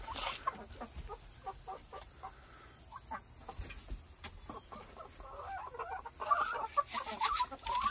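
Black onyx chickens cluck softly and intermittently close by, scattered short calls over a low hiss, growing a little busier toward the end.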